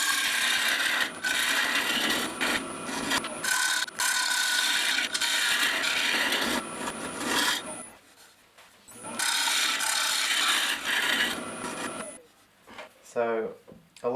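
Bowl gouge cutting the inside of a zebrano wood bowl spinning on a lathe, a steady broadband scraping rasp in long passes that break off briefly between cuts, fairly loud and close.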